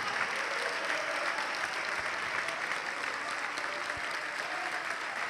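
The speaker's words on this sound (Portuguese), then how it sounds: "vamos aplaudir bastante ao nome de Jesus" Sustained applause from a church congregation at a Saturday evening service, a steady dense wash of many hands clapping, even in level throughout and without speech.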